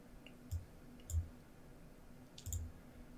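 Three soft, separate mouse clicks, spaced unevenly over a few seconds, while selecting a replace button in editing software. The clicks are quiet against low background hiss, with no talking.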